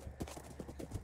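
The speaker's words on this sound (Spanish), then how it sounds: "Nos tocó un caballito feito." A horse's hooves clip-clop at a steady walking pace in a video game, soft, close, rhythmic thuds over a quiet background.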